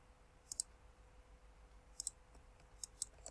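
Computer mouse clicks, close and crisp, arriving in quick pairs roughly every second and a half against a faint hum.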